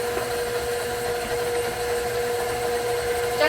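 An electric mixer works shortbread cookie dough with orange and cranberry, a steady motor whine and hum that runs without pause, close and fairly loud.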